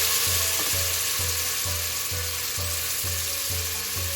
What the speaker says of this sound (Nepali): अब यसलाई चलाएर मैले यसमा राखेँ एउटा मिडियम साइजको टमाटर